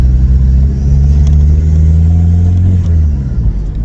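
A Volkswagen Passat B3 with a PD150 engine accelerates through the gears, its engine droning loudly and steadily from inside the car, with a brief dip in pitch near the end as it shifts.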